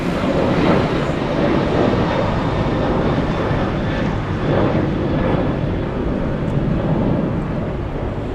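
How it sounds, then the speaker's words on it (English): A United Airlines Boeing 737-900 takes off from LAX bound for Denver, its engines giving a steady, loud, broadband roar that holds at a constant level throughout, with no voices over it. "the next takeoff, we have a United Airlines 737 flying to Denver"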